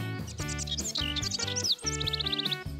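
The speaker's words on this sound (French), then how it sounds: "le chant des oiseaux est superbe!" Cartoon birds chirp and sing in a bright, melodic springtime chorus, with rapid high tweets running over a sustained musical backing throughout.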